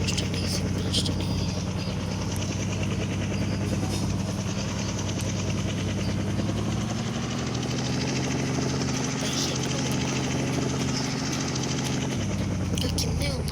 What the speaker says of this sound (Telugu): గాడికి కాల్ చేసి హెలికాప్టర్ ఆర్డర్ చేసి తొందరగా పైకి వెళ్ళిపోవాలి